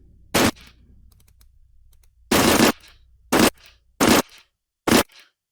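Bursts of gunfire in the video game Escape from Tarkov, five loud sharp volleys of varying length separated by near silence, close and punchy with brief tails.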